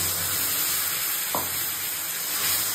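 A prepared spice paste frying in a pan with chopped tomato, giving a steady close sizzle with one brief scrape of a utensil partway through.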